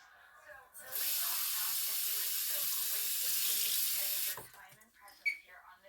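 Water pours in a steady hissing stream for about three seconds into an oatmeal pie mixture with mixed berries, with quieter kitchen clatter before and after.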